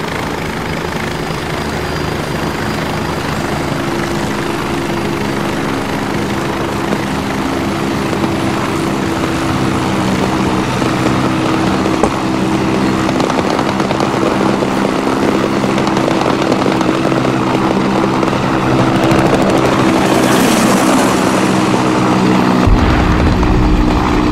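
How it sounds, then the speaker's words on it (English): A military helicopter in the Arma 3 video game gives a loud, continuous rotor and engine drone with steady thumping, close and dominant for the whole stretch, with no talk. "And then here's the helicopter from the opfor."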